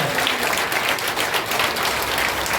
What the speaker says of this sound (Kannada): ದೊಡ್ಡ ಚಪ್ಪಾಳೆ ಕೊಟ್ಟು ದೇವರಿಗೆ ಮಹಿಮೆ ಸಲ್ಲಿಸೋಣ